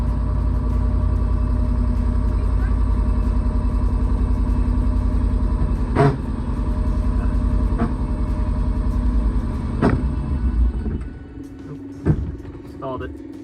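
A 1979 MG Midget 1500 engine with a faulty clutch runs close and loud in a steady, even rumble, punctuated by a few sharp clunks. It then cuts out and stalls near the end.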